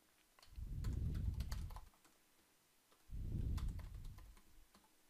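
Typing on a computer keyboard while filling in an NHS trust staff profile form, heard as two bursts of rapid, close keystrokes separated by a brief quiet pause, with no talking.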